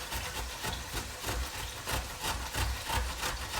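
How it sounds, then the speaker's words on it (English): Fresh ginger rubbed against a grater in a home kitchen, a close, steady run of rasping strokes repeating about twice a second with no talk. "I need to do a fresh grate of ginger, 1 tablespoon."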